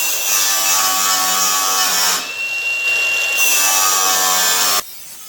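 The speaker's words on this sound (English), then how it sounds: "I like to use the big grinder with the floppy disk on it and just go across it as slow as I possibly can" A big angle grinder fitted with a flap disc grinds down welds on a car body, making a loud, continuous high-pitched whine with a brief dip in pitch midway before cutting off near the end.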